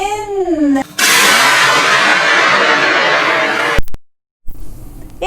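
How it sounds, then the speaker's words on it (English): Sodium reacting in water with phenolphthalein, hydrogen igniting into a loud, sustained roaring burst of noise that cuts off abruptly into silence, with a short tonal sweep just before it. "In that, there was fire and a very loud sound. That was the production of hydrogen gas"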